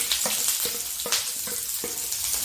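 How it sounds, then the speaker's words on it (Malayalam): Mustard seeds, sliced onion and chopped garlic fry in hot oil, giving a steady close sizzle broken by sharp crackles and pops from the seeds, with no talking. "അതിലേക്ക് നമുക്ക് ഈ കടുക് ഇട്ട് കൊടുക്കാം ഒന്ന് പൊട്ടിടാം കടുക് പൊട്ടി അതിലേക്ക് നമുക്ക് ഈ സവോളയും വെളുത്തുള്ളി അരിഞ്ഞത്"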